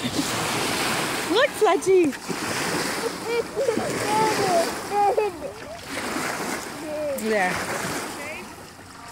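Big waves splash and surge around a kayak on open water, with broad washing bursts rising and falling throughout while several people shout and talk excitedly over them.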